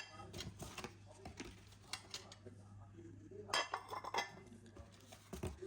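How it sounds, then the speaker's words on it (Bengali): New black table spoons and teaspoons clink softly against half plates as they are handled, with scattered light metallic and ceramic taps and small knocks, fairly faint and close, with a few brief rustles between. "আর এই যে এটা হচ্ছে চামচ"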